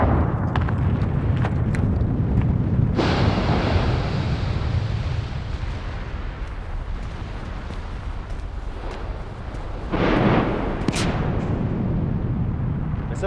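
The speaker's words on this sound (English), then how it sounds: "That's a fabulous explosion," Mount Yasur's crater erupts in explosive bursts, heard as a deep, sustained rumbling roar with sharper blasts near the start and again around ten seconds, fairly close and loud.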